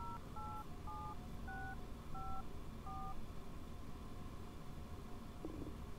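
A phone in the video game Dead Dreams dials with a quick series of faint two-tone beeps at an uneven pace, set over a low steady rumble.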